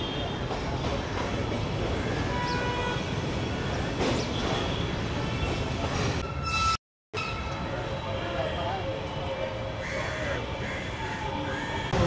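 A Kolkata tram running from Esplanade to Shyambazar rumbles steadily with clatter and street noise around it, heard from on board, with a brief dropout midway and a voice talking at times.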